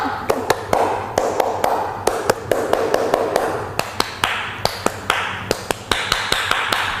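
Sharp, rhythmic hand claps repeat in a steady pattern, an Indonesian scout (Pramuka) clap done three times in a third-grade class, against a noisy room background, with little or no talking.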